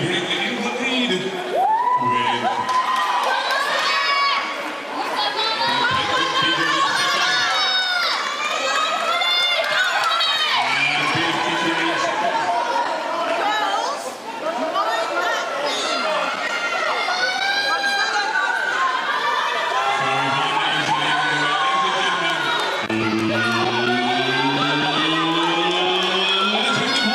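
Crowd at an indoor BFTTA relay race, a continuous loud roar of spectators cheering and shouting, with an announcer talking over it throughout.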